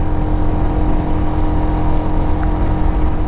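A motorcycle cruises fast at around 100–110 km/h on the Purvanchal Expressway, giving a steady, loud engine drone mixed with heavy wind rush that never lets up.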